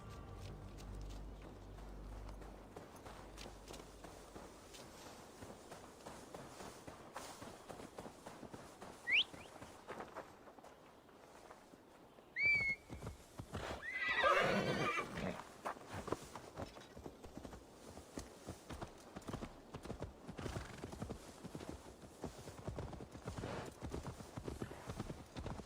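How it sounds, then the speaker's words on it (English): A horse in Assassin's Creed Valhalla walks with steady clip-clopping hooves on a hard surface, a brief whinny breaking in partway, and faint birds and game ambience in the background. "Now to deliver Magni his horse."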